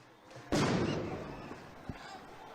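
A firecracker goes off at a street protest: one sudden loud bang that decays over about half a second, followed by a smaller sharp crack amid the outdoor hubbub.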